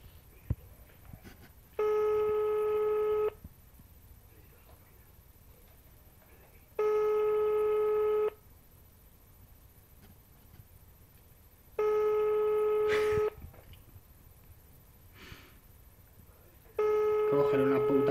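A telephone rings back in a handset during a prank call, four long electronic ring bursts with pauses between them, and an excited voice talks quietly through the gaps.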